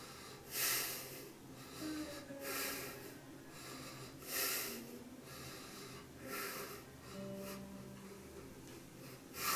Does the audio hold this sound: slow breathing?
yes